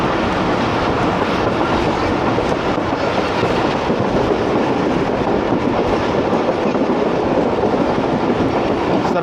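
The Awam Express passenger train on the Lahore to Peshawar line rolls along near Sarai Alamgir, a loud, constant rumble of wheels on rails with faint clickety-clack, heard from inside, with no talk.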